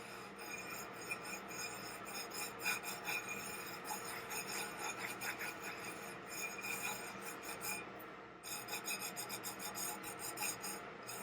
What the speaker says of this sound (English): I'm just going to start gently rubbing the glitter with my finger